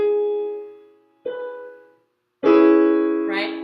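Three sustained chords sounded one after another on a keyboard-like instrument, the last a minor seventh chord rather than a true dominant seventh; each rings clearly and decays, the final one louder and fuller.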